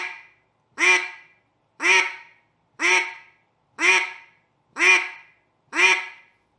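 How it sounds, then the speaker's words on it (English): Seven evenly spaced, loud single quacks blown on a handheld duck call, each a short sharp burst with clear silence between them, no voice heard. "you do not grunt into a duck call. You blow pressurized air only."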